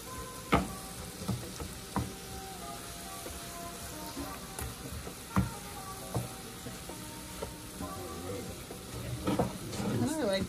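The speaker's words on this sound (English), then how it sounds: "I just saute them" Small bite-sized broccoli florets sauté in a pan with a steady low sizzle, punctuated by several sharp knocks and scrapes of stirring against the pan, building a bit louder toward the end.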